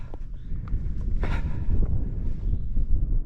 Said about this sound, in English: It's getting windier.